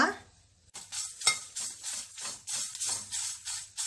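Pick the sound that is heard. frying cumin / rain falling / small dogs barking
frying cumin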